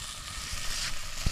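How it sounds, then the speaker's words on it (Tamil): Continuous bubbling sizzle of a pot of fish curry on the boil, a steady crackling hiss with a few soft pops, close by and with no talking. "குழம்பு பார்த்தீங்கன்னா நல்லா கொதிக்குது."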